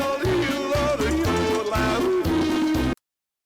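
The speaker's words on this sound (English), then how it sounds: "First, you've got terrible music that plays on a loop." Looping Alps-style background music from the Wii shooting game Chicken Shoot, a bouncy, busy tune with a steady oom-pah beat and bright melody, loud and continuous before cutting off abruptly.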